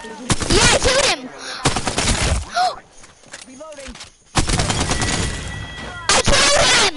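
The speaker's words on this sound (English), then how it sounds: "I'm shooting him. I'm doing damage." Video game shootout with bursts of rapid gunfire in short, loud volleys separated by quieter gaps, while players talk over the shooting.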